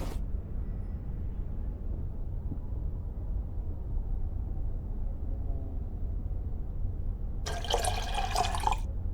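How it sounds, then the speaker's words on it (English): Film developer is poured out in The Black Mirror 2 video game, a steady low watery trickle and drip running throughout, with a brighter splashing burst near the end. "I'll pour out the developer."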